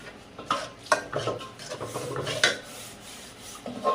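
A spatula scrapes and rasps in a pan as spice powders (turmeric, chilli, cumin, coriander), salt and garlic paste are stirred and fried, with uneven scratchy strokes and a few sharper knocks.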